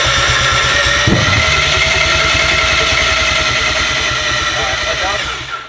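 A rotary engine being cranked on a first start attempt, the starter churning in a fast, even chugging rhythm with a brief bump of ignition early on, loud and close before winding down.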